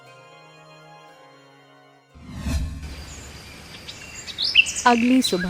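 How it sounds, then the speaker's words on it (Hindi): Forest birds chirp sweetly in the morning in a Hindi cartoon, a few bright, clear tweets rising after a soft whoosh, following a brief spoken line at the start. "वन के पक्षी मधुर स्वर में चहचहा रहे हैं।"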